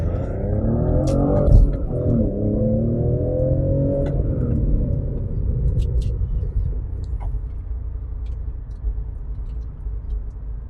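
A 2004 Porsche 996 Targa drives along a road, its engine note rising and falling through a gear change early on before settling into a steady, close cabin rumble with faint ticking above.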